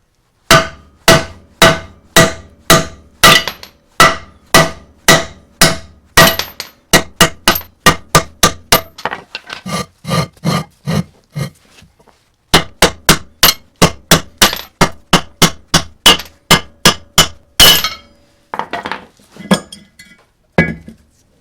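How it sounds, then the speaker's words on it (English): Steady, loud metallic hammer strikes ring out in quick rhythmic bursts, with short pauses between runs of blows, as wheel studs are hammered out of a first-generation Cummins truck's rear hub. "You could just thread an old lug nut on and hammer these out"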